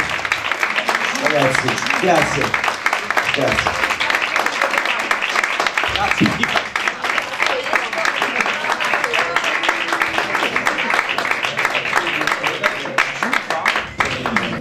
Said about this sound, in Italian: Un applauso a Mauro Ridolfi e a Jessica Orsi.